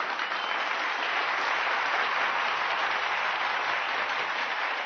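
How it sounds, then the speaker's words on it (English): Steady, dense applause from a large audience, loud and continuous throughout with no pauses or voices standing out. "A deafening applause of 2 minutes followed."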